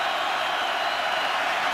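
A packed stadium crowd roars at a Seattle Seahawks home game against the Rams, a dense, steady wash of noise with no breaks.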